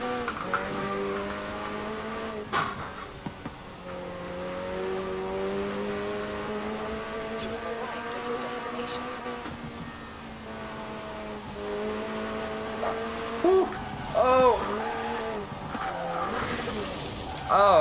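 McLaren 720S Spider in Forza Horizon 4, its engine droning steadily with rising and falling revs and brief tire squeals near the end, all under continuous talk.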